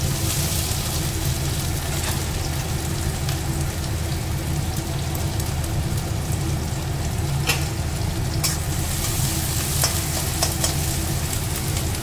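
Chopped garlic and onion frying in a pan of hot oil in a home kitchen, a continuous close crackling sizzle with occasional sharp pops, no voices.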